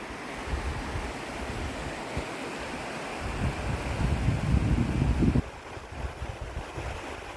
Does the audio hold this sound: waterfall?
yes